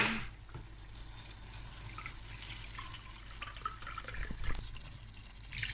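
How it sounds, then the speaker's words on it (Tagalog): Broth is poured into a pan of paella with artichokes, giving a soft, steady watery splashing that stays faint and continuous throughout, with a slightly louder splash near the end. "lagyan ko ng kaldo"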